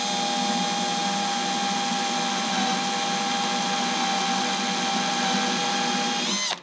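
A power drill whines steadily and loud for several seconds, drilling through an RC model boat to install a strut, then winds down abruptly at the end.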